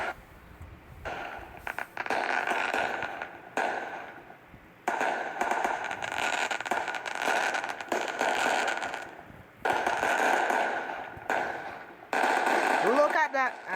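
Fourth of July fireworks bursting in long crackling volleys, loud and rapid, separated by brief pauses, with a few sharper pops between the runs and a whistling rise near the end.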